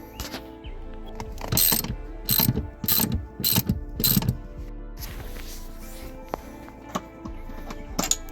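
A hand ratchet clicks in quick bursts of pawl clicks while car seat bolts are removed, several loud close runs of clicking early on, then scattered single clicks.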